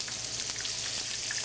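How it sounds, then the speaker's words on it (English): Food shallow-frying in a pan, pieces cooking until golden brown on both sides, giving a steady, close crackling sizzle with no voices over it. "You want to make sure not to crowd things in the pan when you're frying."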